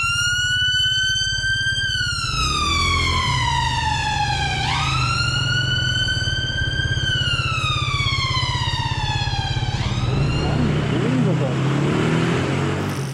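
Emergency vehicle siren wailing loud and close over a motorcycle, with long sweeping up-and-down tones and a deep engine rumble throughout.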